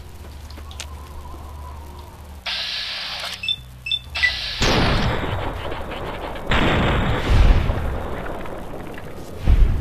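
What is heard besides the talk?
gunfire in the video game Fallout: New Vegas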